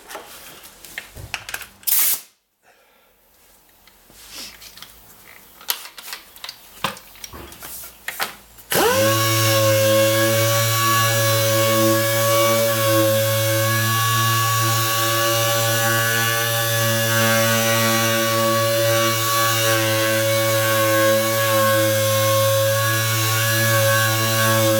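A power sander with 3000 grit paper starts after a few seconds of scattered handling noises, then runs in a loud, steady whine with no pause for the rest of the clip.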